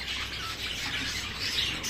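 Racing pigeons in a loft, candidate race birds including females, give a steady wash of soft chirps and calls close by, with no talking.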